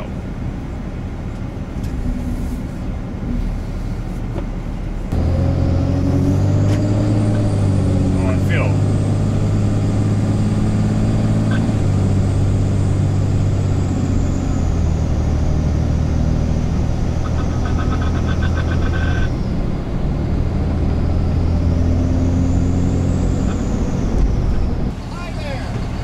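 Cummins diesel-swapped Ford truck driving on the street, a steady loud engine drone with a rising and falling whine, under occasional talk from people in the cab.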